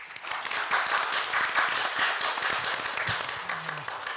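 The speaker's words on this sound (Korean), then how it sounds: "여러분 박수로 격려해 주십시오" Scattered clapping from a small audience at a public hearing on urban regeneration, a steady patter of hands that thins slightly toward the end.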